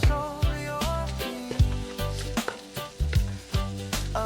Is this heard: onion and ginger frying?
yes